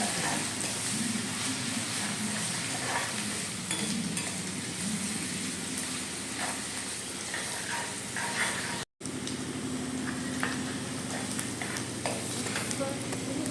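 Ingredients fry in a pan with a faint, steady sizzle and occasional light stirring clicks, continuous apart from a brief cut-out partway through.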